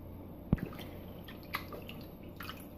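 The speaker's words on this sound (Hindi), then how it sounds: "जितनी भी फिश हैं वो सारी हम इस पानी में ऐड कर देंगे।" Fish pieces dropped into a vessel of clean water for washing, heard as one soft plop followed by a few faint, scattered drips in a quiet room.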